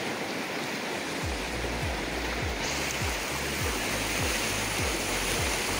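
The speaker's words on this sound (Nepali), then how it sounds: "खोला एकदम ठुलो आइ आएको छ यसपालि है, सायद यो सालकै ठुलो होला" Swollen floodwater of the Tinau river churns in a continuous heavy rush. The torrent's dense hiss and rumble holds steady throughout, with no talking.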